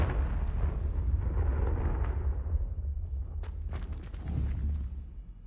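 A Confringo explosive spell blast in Hogwarts Legacy, a loud rumbling boom that slowly fades, followed by scattered crackling impacts and debris.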